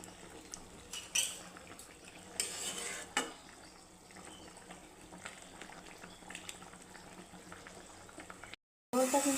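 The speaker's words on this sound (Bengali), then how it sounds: "এটা কিন্তু ফুটে এসেছে।" A thin fish curry broth simmers in a pot with faint, soft bubbling, punctuated by a few sharp clinks and stirs of a utensil against the pot, quiet and close.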